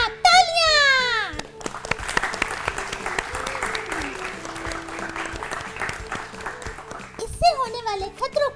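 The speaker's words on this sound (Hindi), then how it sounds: "बिल्कुल सही जवाब. तालियां." A group of children applauds a correct quiz answer in a classroom show, with sustained clapping between bursts of sweeping synthetic sound effects at the start and end.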